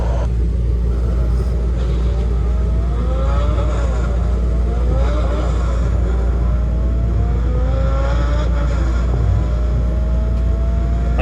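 A race car, likely a Civic at a muscle car shootout, revs hard and climbs through repeated gear shifts, each upshift dropping the pitch before it rises again, loud and steady from inside the car.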